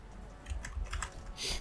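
Computer keyboard keys are pressed in a few quick clicks close by, a short burst of key taps during a Blender session, with no talking.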